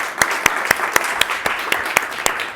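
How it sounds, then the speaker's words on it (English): At an info day event, an audience claps in a steady, rhythmic beat, with sharp, evenly spaced claps about four per second over a softer background of scattered applause. "Let's give it another applause."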